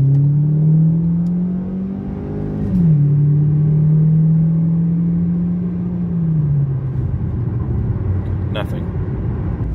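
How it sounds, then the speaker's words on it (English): Ford Focus engine accelerating hard on a highway, a steady loud drone with a rising, shifting pitch and a gear change partway through, heard from inside the car with a brief high tick near the end. "Onto the highway, starting at a low rate of speed, and then accelerate hard"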